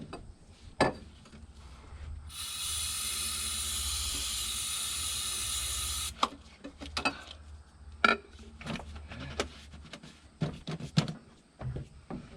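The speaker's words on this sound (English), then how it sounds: "And we'll get some brake clean in this thing." Aerosol brake cleaner hisses in one continuous spray for several seconds into the engine of a 1988 Mustang, with scattered clanks and knocks of work before and after.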